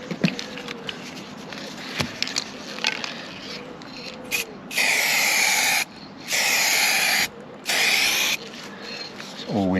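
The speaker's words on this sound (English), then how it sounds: "A very, very light spray." Short bursts of gloss black spray paint hiss from an aerosol can in three separate passes, each lasting about a second, between quieter stretches with faint handling and shuffling noise.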